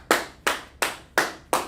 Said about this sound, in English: Clap it up for Angela